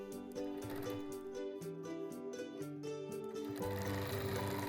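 A sewing machine runs continuous quilting stitches. It gives a steady motor hum with a rapid rhythmic chatter that picks up slightly near the end. Close and even, with no talking.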